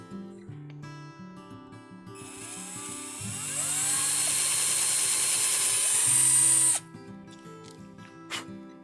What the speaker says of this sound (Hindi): अब होल ड्रिल करते हैं।